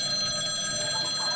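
A mobile phone rings in a theatre performance, a steady electronic tone held at moderate level with no talk over it.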